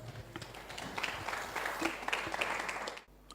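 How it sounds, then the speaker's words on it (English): Audience applause at a Lagos Startup Week 2018 evening event as a keynote speaker is introduced, a short burst of scattered clapping that fades out abruptly near the end. "A round of applause, please."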